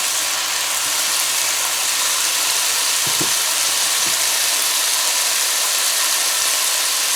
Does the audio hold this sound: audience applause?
no